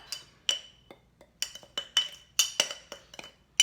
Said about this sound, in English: And then I'm just going to stir this up.